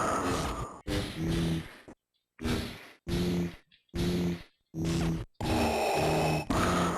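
Darth Vader's mechanical breathing from a Star Wars plug-and-play video game, loud, close, rhythmic hissing breaths repeating in regular cycles with short gaps, no talking.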